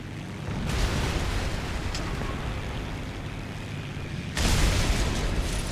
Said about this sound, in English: I'm going to have another bombing run on this Panzer IV